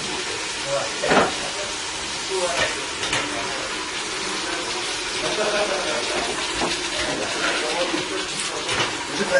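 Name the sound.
food sizzling while frying in a pan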